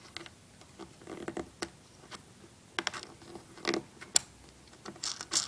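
Small screw being driven into a tech deck fingerboard wheel, heard as faint, irregular clicks and light scraping ticks close by, with quiet pauses between them.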